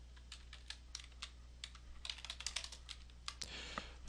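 Quiet, close typing on a computer keyboard, irregular bursts of key clicks with short pauses and a faster cluster near the end, alone without speech.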